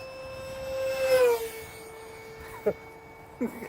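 Small RC turbine jet engine on an L-39 Albatros scale model, steady tonal whine at part throttle that sweeps downward and settles into a sustained hum, with two short bumps of added noise near the end.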